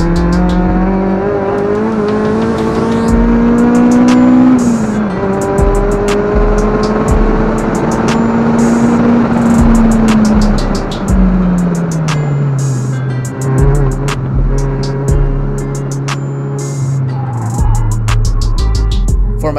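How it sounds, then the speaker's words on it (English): An 8th-generation Honda Civic engine screams at high RPM during a track session at Toronto Motorsports Park, loud and continuous from inside the car, its pitch climbing and then dropping through several gear changes. "I try to keep the car at the higher RPMs for once."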